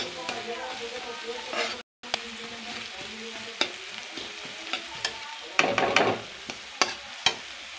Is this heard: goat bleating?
no